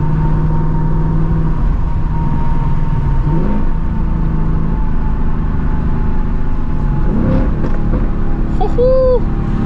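A 500HP 2024 Mustang GT in drag mode makes a loud, steady engine drone throughout a hard pull, with a brief rising whine near the end and voices over it.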